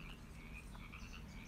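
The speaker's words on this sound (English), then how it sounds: "Do you hear the frogs ribbiting in the forest?" Frogs croak in a forest, a dense chorus of repeated calls overlapping continuously at close range with no other sounds.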